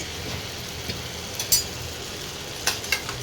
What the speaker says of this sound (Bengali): মশলা দিয়ে তেল ছাড়তে আরম্ভ করে দিয়েছে